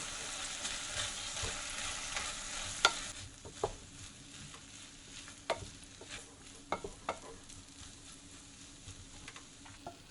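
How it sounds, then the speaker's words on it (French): Hot rice being stirred together with canned tuna and sour mustard leaves in a pan, with soft scraping strokes and a few sharper spoon knocks over a light sizzle, no talking. "Je mélange bien pendant 2 minutes pour avoir une bonne répartition des saveurs."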